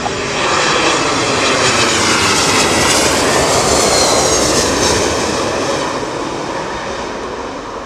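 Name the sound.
Airbus A380 airliner flying near London Heathrow Airport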